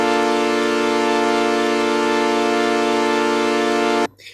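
Korg Electribe 2 sampler holding a tied note loop as one sustained, buzzy, harmonically rich tone at steady loudness, cutting off abruptly near the end.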